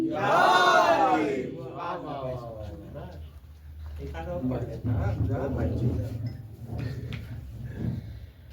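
A mosque crowd at a celebration of Imam Hussain's birth roars back the Naara-e-Haidari slogan response in one loud, massed shout, followed by a lower murmur of voices and chanting.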